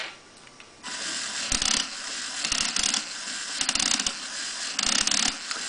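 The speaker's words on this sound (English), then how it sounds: "Is it the sound of the gear missing the teeth?" A fischertechnik pneumatic compressor's gear skips its teeth, giving loud bursts of rapid mechanical clicking and ratcheting that start and stop in uneven clusters, heard up close with no talking.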